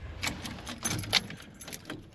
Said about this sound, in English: Guess I can take the keys.